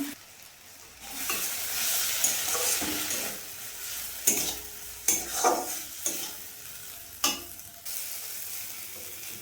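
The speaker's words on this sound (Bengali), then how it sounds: "মশলাটা কষানো হয়ে গিয়েছে" Onion, chilli and ginger-garlic paste frying in a wok: a continuous sizzle broken by several sharp spatula scrapes and clatters of stirring, with no one speaking.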